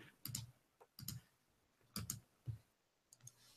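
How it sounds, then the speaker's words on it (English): Computer keyboard typing, a few quiet, close clusters of key clicks with short pauses between bursts in an otherwise still room. "I'm typing something up that I probably shouldn't be typing"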